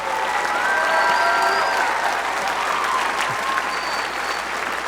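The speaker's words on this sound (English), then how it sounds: "Please give them a round of applause." Sustained audience applause at a FIRST Robotics Competition regional opening ceremony in St. Louis, a steady dense wash of many hands clapping from a large crowd, holding at an even level throughout.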